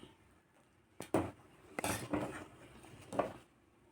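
Sambar powder stirred into sambar in a pot, a few scattered clinks and scrapes of a spoon against metal, quiet and close with silence between the knocks.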